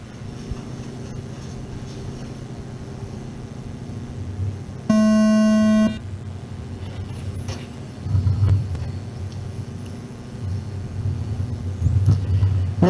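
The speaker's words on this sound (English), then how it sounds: "The next sound you hear will be the start of your Super Stock A main" Super Stock A main race start, a sharp tonal start horn blares for about a second amid distant race-car engine drone, then several cars surge and rev as the field pulls away.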